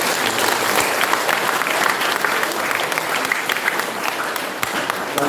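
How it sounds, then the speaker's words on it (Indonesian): A church congregation applauds warmly and continuously at an Easter Vigil mass, a dense, loud wash of clapping throughout. "Kita tepuk tangan ini."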